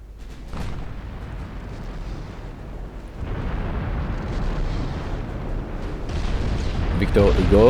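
Warship secondary guns fire in a naval combat game, a rumbling roar of booming shots and explosions that swells louder toward the end, dense and continuous rather than separate reports.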